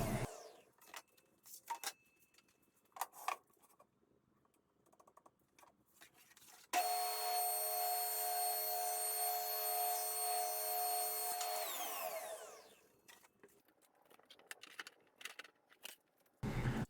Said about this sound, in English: I'm using the table saw to cut a piece of underlayment plywood